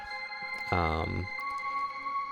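A synthesized tone sweeps through a filtered burst with stacked harmonic steps, fading into repeating echo-like pulses from a filter-based pseudo delay over a steady electronic hum.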